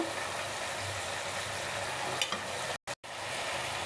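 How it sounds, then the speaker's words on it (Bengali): Melted tomatoes sizzle and fry in a pan as sour yogurt is stirred in while cooking a fish curry, giving a steady close hiss with a brief soft clatter near the end. "টমেটোগুলো যখন গলে এরকম হয়ে গেছে, এখন এর মধ্যে আমি 2 চামচ পরিমাণ টক দই দিয়ে দেব।"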